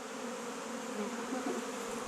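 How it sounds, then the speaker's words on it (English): A dense, steady drone of many honeybees buzzing around hive frames during a hive split, close and constant, with no talking. "here's a bee fresh hatching right here."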